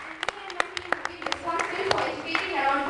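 Sparse clapping from an audience, a few sharp, separate claps close by that fade into a murmur of voices and a softer patter of applause.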